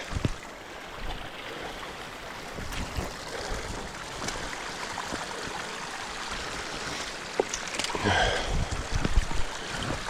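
A waterfall on a steelhead fishing river rushes steadily nearby, a constant broad wash of water that swells slightly near the end, with no voices.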